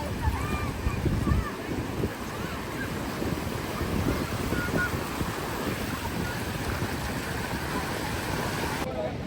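Wind on the Konkan coast buffets the microphone in gusty, rumbling bursts, steady and loud throughout, with a faint wash of water or surf behind it.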